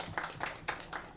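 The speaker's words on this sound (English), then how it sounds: "Can we have a big round of applause for him?" Audience applause at a book launch event, a short brief burst of scattered clapping from a small crowd, fairly faint.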